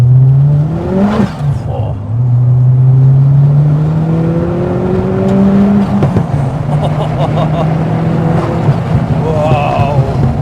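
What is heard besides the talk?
Ford Fiesta RS Turbo accelerating on the road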